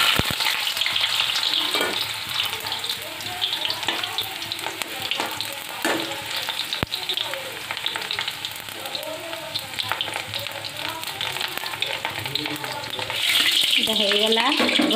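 Pointed gourd pieces fry in hot mustard oil in a wok, giving a steady, dense sizzle with occasional stirring scrapes and crackles throughout, fairly close and continuous.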